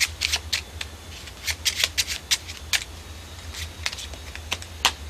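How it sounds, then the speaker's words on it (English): Rapid riffling bursts of playing cards being shuffled, several quick ruffles in close succession over a low steady hum, no talking. "Give them a good shuffle here."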